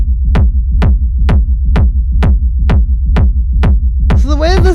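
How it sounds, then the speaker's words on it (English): Fat, punchy techno kick drum pattern with light echo, reverb and drum-bus processing, pounding about ten evenly spaced heavy thumps in a steady four-on-the-floor pulse, loud and alone, a brief swirling effect at the end. "Then from there we have the kick groove"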